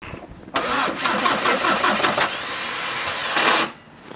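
A van's starter motor cranks on a frozen morning in a steady, rapid churning rhythm for about three seconds without the engine catching. It is close and loud.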